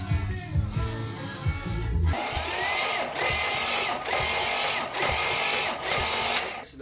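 A starter cranks over the engine of a 1985 K30 CUCV for a compression test, giving a loud, steady, rhythmic churning whir that runs nearly seven seconds with no talking.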